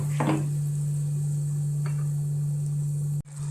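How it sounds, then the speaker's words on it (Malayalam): Ground masala paste stirred in a pan for a rose-petal curry, a brief scraping stir near the start and another faint one later over a steady low electrical hum, ending with an abrupt cut. "അരപ്പിന് പച്ചമണം മാറുന്നോളം വരെ ഇളക്കി കൊടുക്കുക."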